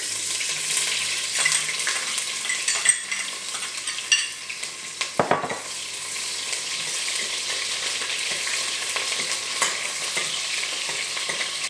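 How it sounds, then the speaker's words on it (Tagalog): Garlic and onion sizzle steadily in a hot pan while being stirred, a loud close frying hiss with occasional scraping stirs and no speech. "magigisa na tayo"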